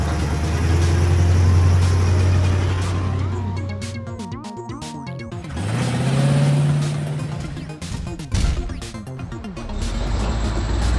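Cartoon truck's powerful engine revving loudly, rising and falling in a few long surges with low rumbling tones and some clattering, alone with no voices.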